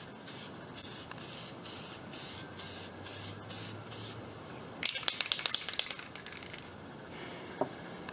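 Yellow tint spray being applied to car foglights in short aerosol bursts, about seven evenly spaced hisses, followed by light clicking and rattling of the can.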